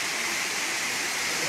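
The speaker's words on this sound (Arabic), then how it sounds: "هذا هو شلال جيرموك" The Jermuk waterfall in Armenia gives a steady, dense roar of falling water, close and continuous throughout, with no other sounds standing out.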